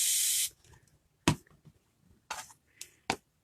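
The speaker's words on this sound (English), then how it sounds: "And let's give this one a spray." A spray bottle mists onto a craft multi-tool, one sharp hiss up front, followed by a few quick clicks, taps and shorter spritzes in a quiet room.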